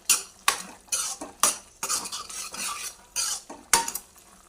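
A spoon scrapes and clanks against a metal pan while stirring a tomato curry with a handful of coriander, giving a series of sharp, close, irregular strokes with no talking.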